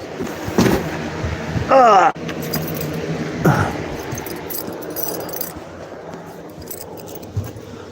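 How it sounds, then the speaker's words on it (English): A bunch of keys jangles as it is picked up, a brief metallic jingle followed by a few scattered clinks, near and fairly loud, with a voice and a passing vehicle around it. "Let me grab my keys."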